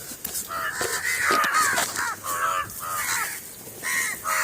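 Several crows perched in trees on a farm caw loudly and repeatedly, their harsh calls overlapping in quick succession close by.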